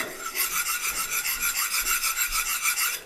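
Knife blade drawn repeatedly across a diamond sharpener, a close, rasping scrape in quick regular strokes, about ten passes in three seconds, with no voices.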